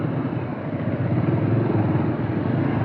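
A Pulsar 150 cc motorcycle rides over a broken, rough road, its engine a steady close rumble that runs loud and unbroken the whole way, with no voices.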